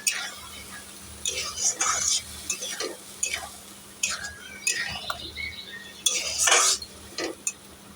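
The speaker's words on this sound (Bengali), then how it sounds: "অল্প একটু জল দিলাম, দিয়ে ভালো করে নেড়ে দেবো।" A spoon scrapes and stirs chicken curry in a pan with intermittent clinks and light sizzling, in irregular bursts over a quiet background.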